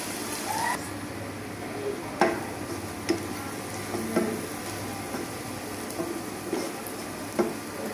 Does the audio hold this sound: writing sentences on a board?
no